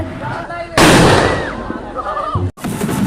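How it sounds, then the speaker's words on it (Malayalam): A sudden loud firecracker blast bursts out at a Muniyappan puja festival, followed by crackling and a voice nearby, then another sharp pop near the end. "ആദ്യം തന്നെ കുട്ടമാമനാണ് പടക്കം പൊട്ടിക്കുന്നത്"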